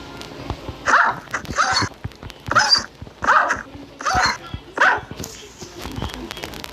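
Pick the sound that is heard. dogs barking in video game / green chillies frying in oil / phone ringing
dogs barking in video game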